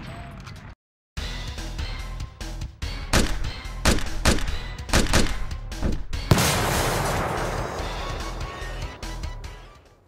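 Gunfire in a James Bond video game: a series of sharp, loud shots at a steady pace over the first six seconds, then a dense, noisy burst like a destroyed object breaking apart, near and alone without talk.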